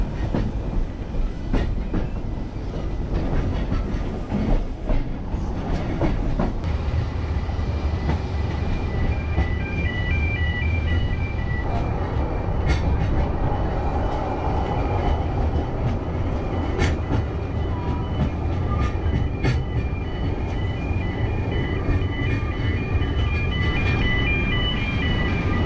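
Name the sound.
double prairie steam locomotive on Welsh Highland Railway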